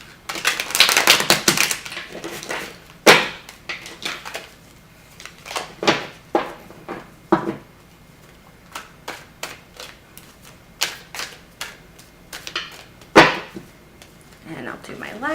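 A large Lumina Tarot deck is shuffled by hand in repeated bursts of papery riffling and tapping, close by, with pauses between, under a speaking voice.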